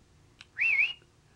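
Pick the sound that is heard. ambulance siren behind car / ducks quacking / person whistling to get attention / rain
person whistling to get attention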